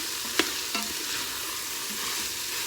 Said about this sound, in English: Stir it again.